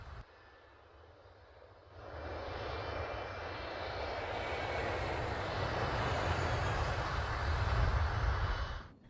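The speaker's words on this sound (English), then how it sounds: "The 8 front engines roared to life, propelling the KM forward and out of the water." The eight front engines of the KM ekranoplan roar up from a low rumble into a loud, sustained, swelling drone that builds steadily and holds near, with no voices.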